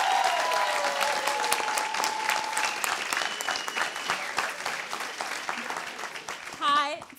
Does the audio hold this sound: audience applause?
yes